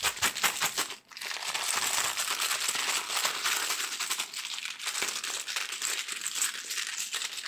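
Small clue tokens from the Eldritch Horror board game rattle and clink continuously, a dense bright crinkling patter close by that runs almost without break, with a brief dip near the start.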